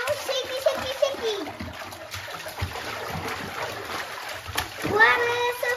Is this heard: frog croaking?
no